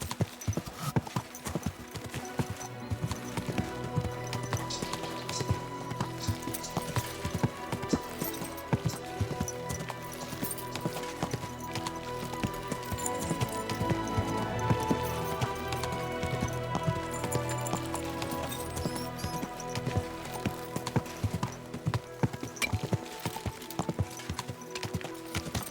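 Horse hooves clip-clopping in the video game Kingdom Come Deliverance 2, a steady trotting rhythm set within a continuous bed of game music, with a brief whinny-like touch and no talking.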